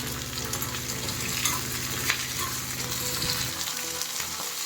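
Mixed vegetables, with tomatoes being added, fry in a pan with a steady, dense sizzle, close and continuous, with a few soft stirring knocks.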